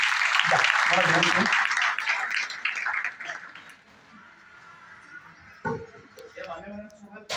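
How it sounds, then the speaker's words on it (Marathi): Audience applause at a stage ceremony for four dignitaries, a dense crowd clapping loudly for about three seconds and then fading into scattered claps, with brief voices and a few sharp sounds. "एकदा जोरदार टाळ्या चौघांकडे"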